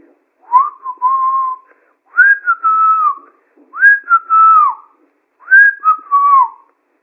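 Four drawn-out whistled phrases repeat with short pauses between, each a rising note that bends and falls, clear and close against silence.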